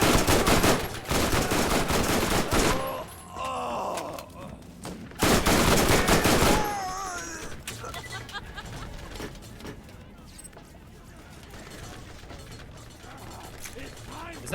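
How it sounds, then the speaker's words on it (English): Enemy gunfire in Borderlands, dense rapid automatic bursts in two loud stretches, followed by quieter game sounds and voices talking. "Is that turret still firing at me, or is that a dude?"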